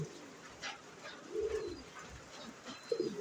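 A pigeon coos softly in a loft, a few low murmuring coos spaced out over a quiet background with faint room noise.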